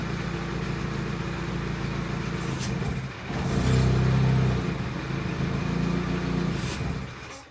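A Chinese premium car's engine runs steadily, dips briefly, then surges into a louder labored rumble while its mass air flow sensor is covered by hand, before settling and fading near the end.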